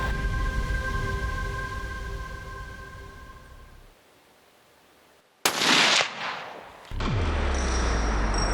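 A single sharp, loud rifle shot at a mule deer about 200 yards off, in open Mexican hunting country, bursting out after a quiet stretch, with a short trailing echo and a low rumble afterward.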